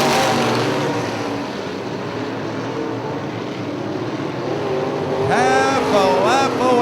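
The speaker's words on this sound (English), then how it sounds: "Here we go, 1 lap to go for Myron DeYoung and Dan Hamstra." UMP modified race cars roar around Hartford Speedway on the final lap, a steady loud engine drone throughout that swells near the end as cars pass close, with rising whine sweeps in the last seconds.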